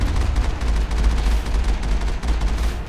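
Mako vehicle machine guns in Mass Effect blaze in a loud, dense, unbroken stream of automatic fire with heavy low rumble, close and overwhelming throughout.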